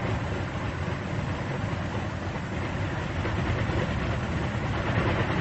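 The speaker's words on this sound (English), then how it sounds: "As soon as the engine starts, the mixture control is moved to automatic rich." A Corsair fighter's radial piston engine runs at a steady low idle of no more than 750 RPM, a continuous loud, even rumble with no pauses and no voices.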